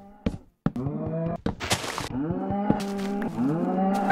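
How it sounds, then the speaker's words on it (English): Cows mooing in Minecraft Better Than Adventure, several long, loud, close lowing calls overlapping one another, broken by a couple of dull thunks. "these cows brutally moo in my ear"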